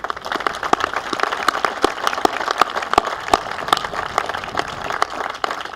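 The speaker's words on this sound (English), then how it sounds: "Please join me in a round of great applause for the Dickinson family." An audience applauds the Dickinson family at a military change of command ceremony, a steady stream of sharp, distinct claps at moderate distance that continues evenly throughout without any voices.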